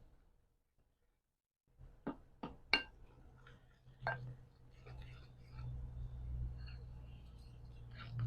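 A spoon stirring honeybun cake batter in a mixing bowl, a few sharp clinks against the side early on, then a steadier scraping swirl of mixing that continues close by and fairly quiet.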